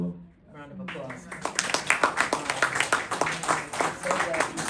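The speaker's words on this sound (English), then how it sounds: "Round of applause." An audience breaks into applause at a live event, a burst of dense clapping that swells after a brief spoken moment at the start and carries on steadily at moderate volume.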